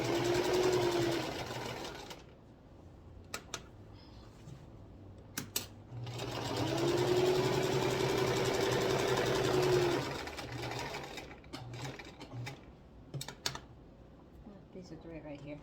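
A sewing machine runs in two sustained bursts of freehand stitching on fabric, loud and steady, with quiet pauses, light clicks and faint talk between the runs.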